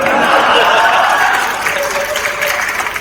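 Sustained audience applause at a poetry recital during the Kannauj Mahotsav, a dense, steady wash of clapping that stays loud throughout and eases slightly toward the end.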